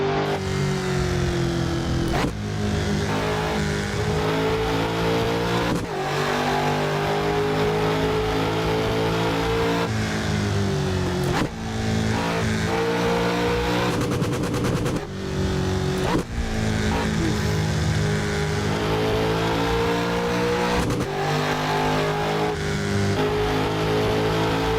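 A 1000 horsepower BMW M5 in the Assetto Corsa racing game, its engine roaring loud and continuous through repeated revs and gear shifts, with brief dips between pulls and no talk.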